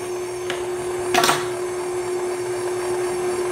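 An electric mixer whirs steadily on its stir setting while blending vanilla cake batter with strawberries, a constant motor hum with a brief louder burst about a second in as the beaters catch the mix.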